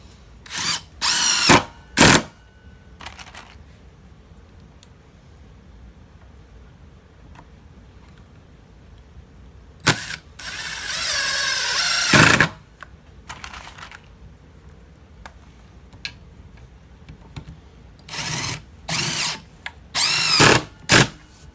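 A power drill drives screws into a wooden gate during its build, with several sharp close bursts of whirring spaced through the quiet, including one longer sustained run in the middle.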